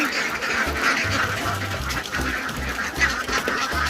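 Laying ducks on a farm quack loudly in a busy, continuous chorus around a feeding basin, with overlapping honking calls throughout.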